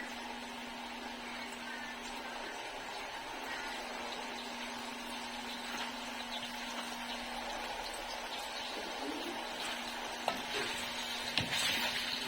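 Potatoes being stirred into white adobo in a cooking pan, a continuous close sizzle and frying hiss with occasional soft scrapes and clinks of the spoon, and faint talk in the background.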